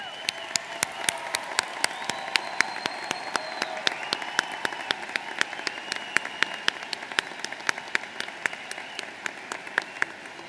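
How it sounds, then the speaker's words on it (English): A high school graduation audience in 2017 claps for military service members, a sustained, even wash of applause from a large crowd with sharp individual claps standing out throughout. "join me in a round of applause for those men and women"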